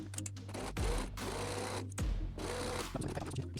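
A domestic sewing machine runs a straight stitch through fabric and lining for a fabric card holder, starting with a backstitch: close whirring motor bursts with a rapid needle clatter, pausing briefly between short runs.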